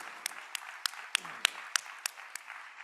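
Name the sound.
audience applause at a board meeting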